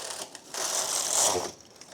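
Knitting machine carriage pushed across the needle bed, a steady mechanical rattling and clattering swell lasting about a second, close and fairly loud, with no talking.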